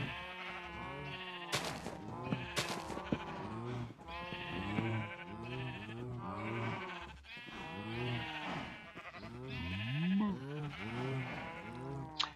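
Sheep in a survival video game bleat repeatedly in a close, overlapping chorus of wavering calls that continues without pause throughout.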